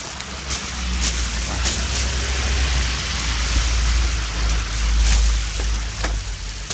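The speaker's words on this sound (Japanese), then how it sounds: "雨音がうるさいな" Heavy, noisy rain falls steadily throughout, a dense continuous hiss with a low rumble beneath and occasional brief louder spatters, with no talking.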